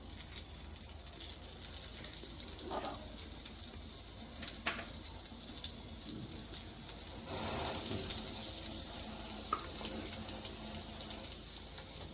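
About a spoonful of butter sizzling in a hot pan while cooking palak paneer, a faint, steady frying hiss with a few soft clinks and scrapes.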